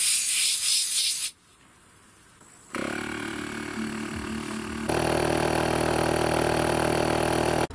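A tire on a Kia Sorento Prime is inflated. A harsh, loud whirring hiss runs for about a second and cuts off, then a quieter pause follows before a steady mechanical hum starts and grows louder, like an engine idling.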